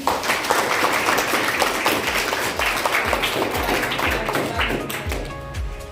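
Fourth-grade students in a music class clap together, with a dense patter of many small hands filling the room and steady rhythmic thumps running beneath it, close and continuous for several seconds.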